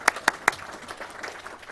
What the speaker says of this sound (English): let's just applaud that